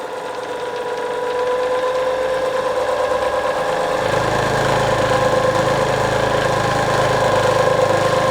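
The belt-driven motor of a Goodell-Pratt drill press runs up to a faster speed, a steady close whine and hum with a deeper drone settling in partway through, continuous and fairly loud.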